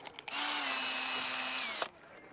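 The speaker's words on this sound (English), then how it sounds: "So all I need to do now is drill the top." A power drill bores into a wooden scaffold board being made into self-watering planters, one steady whining burst of about a second and a half, close and loud, starting and stopping abruptly.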